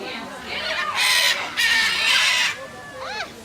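A flock of birds flies back in at a live bird show at Disney's Animal Kingdom, giving loud bursts of wing flutter and rushing noise with chirps and calls, while a person talks over them.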